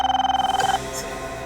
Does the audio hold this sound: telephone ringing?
yes